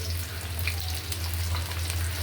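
Chopped garlic and onion frying in mustard oil make a steady, close crackling sizzle with a low hum beneath, no talking over it.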